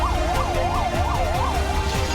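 An ambulance siren wails in a loud, steady up-and-down cycle at a building collapse in Kota, Rajasthan, with traffic rumbling underneath and no talk.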